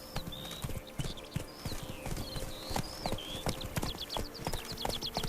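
Roach, a horse in The Witcher 3 video game, gallops with fast, steady hoofbeats that carry on throughout, alongside faint whinny-like tones and light background music.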